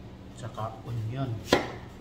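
Knife chopping onion on a cutting board, a few soft irregular thuds followed by one sharp louder knock, close by with no talk.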